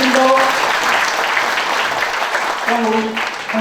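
Audience at a founding anniversary ceremony of a local history and culture institute claps in a dense, continuous round of applause. A voice speaks over the clapping near the start and again near the end.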